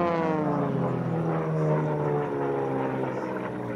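A Sport Class racing airplane at the National Championship Air Races roars past the pylon on a hot day, with a loud, steady propeller engine drone that shifts pitch slightly as it passes close by.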